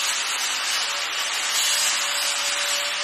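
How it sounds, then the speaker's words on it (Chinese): Abrasive sanding of a stair handrail's base coat during installation, a steady, continuous hiss close by, with no talk and no pauses. "磨砂打磨，这是那个加工底料啊。"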